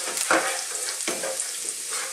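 Ginger and garlic sizzle briskly in hot oil in a pan, a close, continuous frying hiss broken by two quick stirring scrapes, with no voices.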